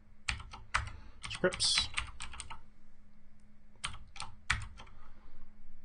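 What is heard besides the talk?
typing on a computer keyboard and pressing enter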